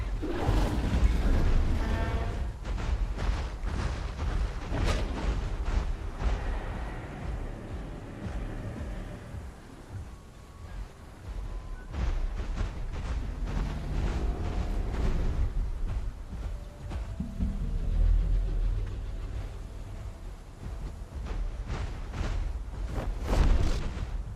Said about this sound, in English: The cannon fight, probably.